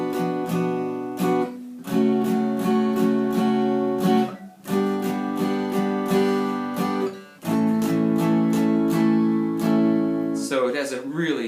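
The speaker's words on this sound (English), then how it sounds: "if I wanted to play those chords with just the straight minors and majors, it would sound like this" Guitar strummed through a series of plain major and minor chords, rhythmic strokes in close succession with short gaps, ending in a brief wavering tone.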